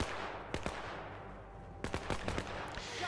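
Gunfire in a WWII strategy video game set during the Allied invasion of France: a few sharp, close shots early, a quieter stretch, then a rapid cluster of bursts with a fading tail.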